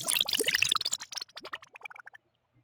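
A wet, bubbly, zappy sci-fi liquid effect made with a freeform phase shape, with a dense burst of fizzing bubbles. It thins into separate popping blips that fade out within about two seconds.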